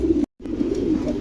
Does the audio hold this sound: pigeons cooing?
yes